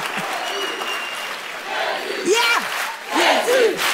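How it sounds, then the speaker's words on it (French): A church crowd claps loudly and steadily, with cheers and shouts rising over the applause and a voice calling out above it. "come on, clap for Jesus"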